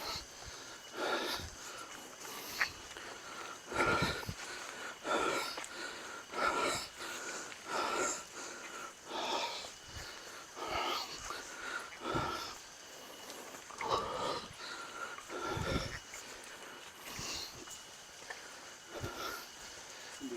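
A hiker breathes heavily and pants hard, out of breath, on a trail near Cilengkrang in Kuningan. Harsh rhythmic gasps repeat close to the microphone for about twenty seconds.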